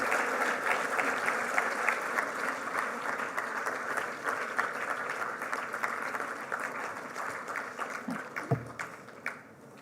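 A standing ovation for an orator at a memorial oration, with dense, sustained applause from a large audience filling the room at an even level until a brief thump near the end.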